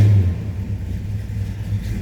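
A 1965 Pontiac GTO with its 389 V8 runs close up, a steady low, rough rumble with a slight swell of revving at the start and no talk over it.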